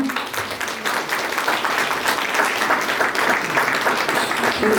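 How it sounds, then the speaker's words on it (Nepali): Guests at a wedding ceremony applaud to welcome an uncle forward, a dense, steady wash of many hands clapping at moderate distance for several seconds. "हाम्रो काकालाई चाहिँ हामी ताली बजाएर अगाडि स्वागत गर्नेछौँ।"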